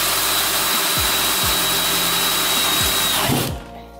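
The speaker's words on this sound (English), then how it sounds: "Use a 3/16 bit and drill a hole straight through the valve body." A power drill with a 3/16 bit bores a hole straight through a 4L80E transmission valve body during a rebuild, a loud steady whine with several dips in motor pitch as the bit bites, then winding down at the end.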